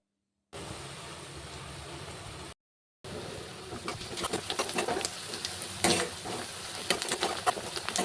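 Curry leaves and a little turmeric sizzle in oil in a pan while cooking a quick rice dish, a soft steady frying hiss broken by a brief gap, then busier crackling with a few stirring knocks.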